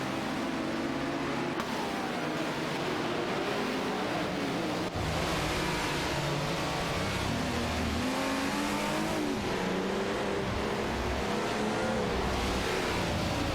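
Racing car engines in a video game race with a Ferrari 312PB and a T280 among the field, a steady, dense whine of several engines revving and shifting, loud and continuous throughout with no talk.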